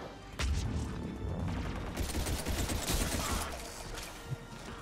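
Rapid gunfire in the Mass Effect 3 multiplayer video game, a dense continuous burst of shots and impacts over a rumbling backdrop lasting nearly five seconds, fairly faint overall.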